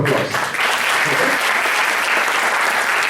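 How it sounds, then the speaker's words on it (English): Steady, dense applause from an audience at a corporate industry interaction talk, sustained and fairly loud with a brief voice at the start. "I think GATE Forum deserves a round of applause"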